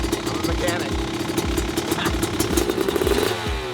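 A dirt bike engine idles steadily while warming up before a track ride, giving a continuous close rumble with a faint clattering, pulsing texture throughout.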